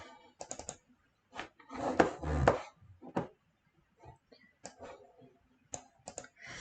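Someone types on a computer keyboard into a Word document: close, irregular key clicks in short clusters with pauses, including a quick flurry of several keystrokes near the middle, with no speech over them.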